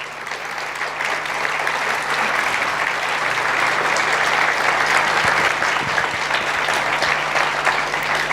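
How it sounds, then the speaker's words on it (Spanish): Applause from a church congregation, a dense, steady clapping that fills the whole stretch at an even, fairly loud level. "¿Por qué no le damos un aplauso como él se lo merece?"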